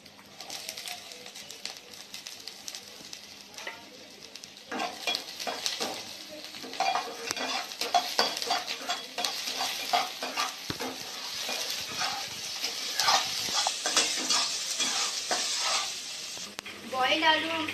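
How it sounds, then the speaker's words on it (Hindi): Chopped onion and red chilli sizzle and fry in hot oil in a pan, with steady crackling and repeated stirring scrapes throughout, close and fairly loud. "सबसे पहले हम एक पैन में तेल ले लेंगे, तेल गरम होने देंगे। अब हम उसमें लाल मिर्च डालेंगे,"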